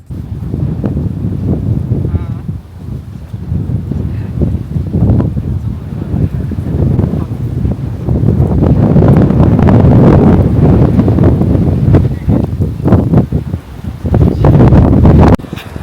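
Strong, cold wind gusts steadily across the microphone outdoors on the Mongolian steppe during a camel ride, a loud continuous roar and buffeting that swells midway, with occasional voices in the background.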